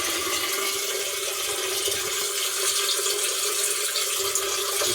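Water gushes vigorously from a pipe at the bottom of a fish tank, sending up bubbles: a steady, loud, broadband rushing and hissing flow that holds constant throughout, close and with no talking.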